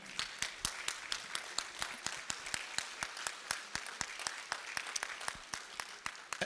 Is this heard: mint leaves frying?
no